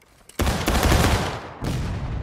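A single musket volley at a Civil War reenactment field battle bursts out as one loud, crackling roar that rolls and echoes, with a second ragged wave of shots following moments later.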